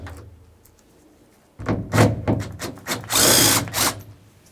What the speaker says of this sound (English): I'll use an 11mm to remove each of my mounting bolts and then the handle.